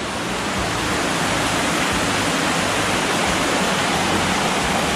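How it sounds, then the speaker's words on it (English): Soco Falls in Maggie Valley, North Carolina, roars as a steady, loud, broadband rush of falling water that holds constant throughout without voices. "what do you think about the waterfall?"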